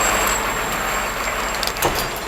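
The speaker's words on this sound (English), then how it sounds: "truck on our left hand side" A truck passes on the left of a pedestrian walking down a sloping footpath toward Booterstown DART Station, a steady loud road rumble filling the scene with a short hiss near the end.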